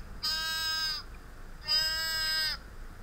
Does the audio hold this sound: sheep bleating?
yes